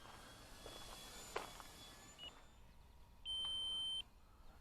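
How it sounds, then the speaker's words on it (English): An RC transmitter's flight timer sounds one steady electronic beep lasting under a second. It is heard outdoors during an E-Flite Turbo Timber Evolution flight, above faint wind and background noise. "And there's our timer going."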